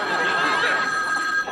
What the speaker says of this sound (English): So the phone rings.